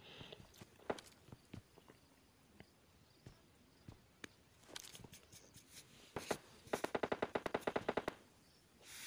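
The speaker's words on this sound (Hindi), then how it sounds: "मुझे फिर से फायरिंग की आवाज़ आती है" Gunfire from PUBG Mobile Lite, with scattered single shots and short bursts early on, then a rapid automatic burst of about a dozen sharp cracks near the end, mixed with footsteps and quiet surroundings.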